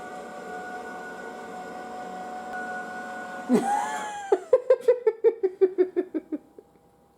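Motorised slide-out kitchen extending from the side of a Land Rover: a steady electric motor hum, then a clunk and a run of evenly spaced mechanical clicks or ratchets as the unit travels out, close and moderately loud, no talk.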